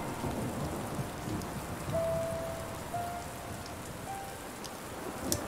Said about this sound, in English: Still see the sun, even through the rain.